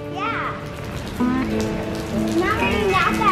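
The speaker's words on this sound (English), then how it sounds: "I think it's raining pretty good." Rain falls steadily on surfaces along a riverside walk in Tampa, a continuous soft patter heard under the chatter of children and an adult talking nearby.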